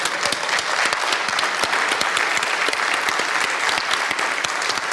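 A standing audience at a Portuguese digital business congress applauds its association president, with dense, steady clapping spread evenly throughout and no voices above it.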